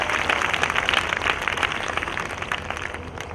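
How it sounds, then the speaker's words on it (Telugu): Steady applause from a church congregation, dense and continuous clapping at moderate loudness for a few seconds with no talk over it. "చప్పట్లతో ప్రభుని కనపరుస్తారు."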